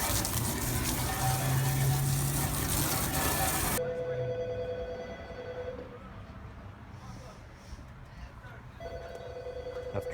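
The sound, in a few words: water sprayed on rooftop unit to test leak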